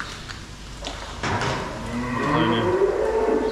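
Cattle lowing on a farm, a drawn-out moo rising near the middle and swelling louder toward the end over steady barn background noise.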